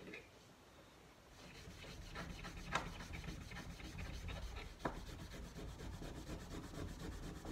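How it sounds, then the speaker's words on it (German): Steady rubbing of abrasive fleece on metal, a continuous scratchy rasp with a couple of sharper scrapes, fairly close and alone. "dass ich vielleicht noch mit dem Schleifvlies hinterhergehen muss"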